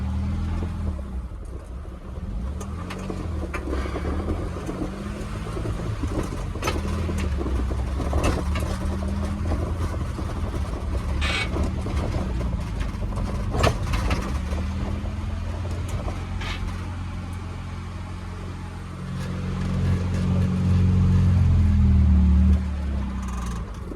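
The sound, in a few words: car engine revving fast with automatic choke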